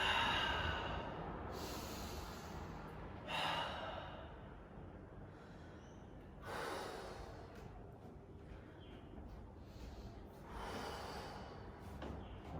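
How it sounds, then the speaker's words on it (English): Slow, deep breaths during a front split stretch, several long airy inhales and exhales at close range with no talk. "Big breath in."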